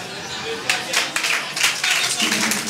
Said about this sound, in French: On a applaudi pour un peu.